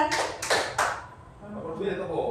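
A group at a teacher training workshop claps together in quick sharp bursts, three claps in a tight rhythm. Room murmur follows at a lower level.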